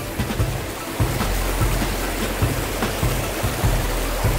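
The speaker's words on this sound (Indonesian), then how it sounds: "oh sungainya sih nggak terlalu dalam ya tapi arusnya cukup deras" A fast, shallow river near Pelabuhan Ratu in Sukabumi, West Java, rushes loudly and continuously, a dense close wash of water with small splashes and no talking.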